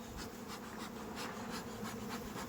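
Honey bees at a rooftop beehive make a steady, dense buzzing drone that holds evenly throughout, fairly quiet and close with no speech.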